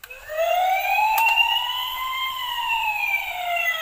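An electronic toy siren wails steadily with a rising and falling tone, loud and close, continuing without pause.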